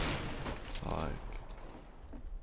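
Pistol gunfire in the video game CS:GO: a busy, dense burst of shots and muffled game noise at moderate loudness, fading toward the end, with a voice talking in the mix.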